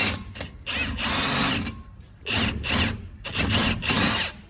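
Impact wrench spinning off a 16mm sway bar end link nut on a BMW F30 335xi during a suspension install, three loud close bursts of buzzing hammering separated by short pauses.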